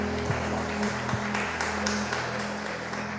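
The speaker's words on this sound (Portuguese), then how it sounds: "dê um aplauso para o Senhor" A church congregation claps, steady, moderately distant applause filling a large room at low level with no talking over it.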